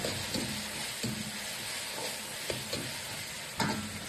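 Beef stir-fried in a wok with hang peppers, bird's eye chilies, celery, oyster sauce and soy sauce, a loud steady sizzle broken by repeated scraping stirs of the spatula, with no talking.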